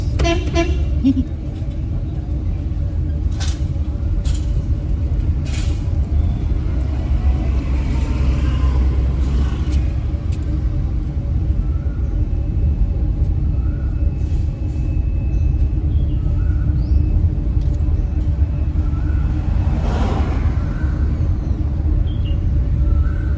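A car engine runs steadily throughout a driving lesson in India, a continuous low rumble with horn toots around the start and near twenty seconds, while an instructor and learner talk over it.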